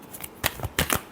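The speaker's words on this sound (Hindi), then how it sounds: "Last shuffle." Playing cards shuffled during a tarot reading, heard as a few quick riffling bursts, close and fairly soft, with no voice over them.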